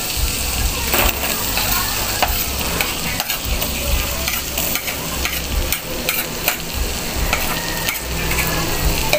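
Garlic frying in a pan while being stirred, a loud close sizzle with frequent scraping and clattering strokes of the utensil throughout.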